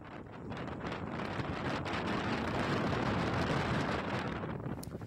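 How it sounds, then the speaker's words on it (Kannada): Strong Cyclone Michaung wind, reported at about 100 km/h, blows along the coast as a steady, dense roar that builds slightly and holds loud for several seconds, with no voices. "ಗಂಟೆಗೆ 100 ಕಿಲೋಮೀಟರ್ ವೇಗದಲ್ಲಿ ಗಾಳಿ ಬೀಸ್ತಾ ಇದೆ"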